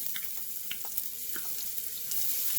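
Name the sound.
mustard seeds spluttering, chopped onion frying in pan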